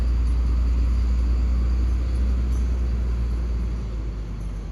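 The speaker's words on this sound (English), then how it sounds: "the drill rig is passing" Drill rig truck passing by on a road, a heavy low engine rumble close and loud that slowly fades as it moves away.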